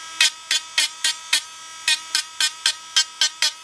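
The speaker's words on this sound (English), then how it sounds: "and just hit it with the Dremel" A Dremel rotary tool grinds paint off a Patsy doll head in repeated short bursts, roughly a dozen quick high-pitched buzzing pulses with brief gaps between them, close and fairly loud, with no talking.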